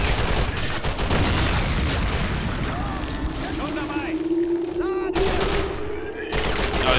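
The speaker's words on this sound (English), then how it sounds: "Oh, he's getting shot at." WW2 Stalingrad combat in a video game: a loud, steady fusillade of rifle and machine-gun fire with booms and whistling incoming rounds, under a droning vehicle engine and shouting voices.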